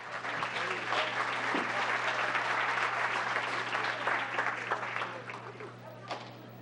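Audience at a town council meeting breaks into sustained applause, a dense wash of clapping that holds steady for several seconds before thinning out near the end, with some voices mixed in over a low steady hum.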